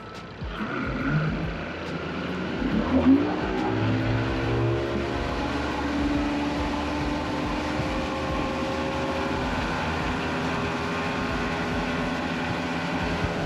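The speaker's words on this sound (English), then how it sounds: "Just like that, I'm up on plane already, literally seconds." Mercury Optimax outboard motor accelerating a boat onto plane, a loud steady engine drone rising in pitch over rushing water and wind noise, close and continuous.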